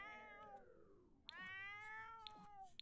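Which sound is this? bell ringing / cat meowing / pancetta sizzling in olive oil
cat meowing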